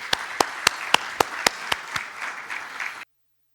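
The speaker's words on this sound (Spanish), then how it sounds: "Recibámoslo con un cordial aplauso." An audience at a talk on the world food crisis gives a cordial welcoming round, with sharp individual claps standing out in a steady rhythm over softer clapping before it stops abruptly.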